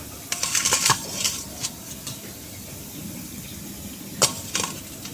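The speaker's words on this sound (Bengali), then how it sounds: "একটু জল দিয়ে দিলাম" A little water is poured into a mixer grinder jar while making aam panna, a raw mango drink. Short, light splashes come in one cluster, then a brief second trickle, close and fairly quiet.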